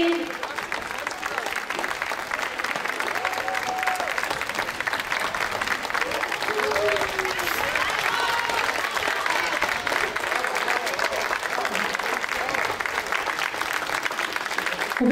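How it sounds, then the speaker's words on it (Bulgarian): An outdoor concert audience at an ancient theatre gives sustained, dense applause for the performers on a rainy night, a steady crowd roar of clapping with some voices and a few brief whistles. "Още веднъж бурни аплодисменти за моите прекрасни колеги и колежки."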